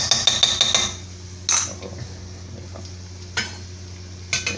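Salted butter and garlic hit hot oil in a pan for a sweet-and-sour sauce over fried shrimp. A quick run of close, scraping stirs comes first, followed by a low sizzle and a few separate utensil knocks against the pan.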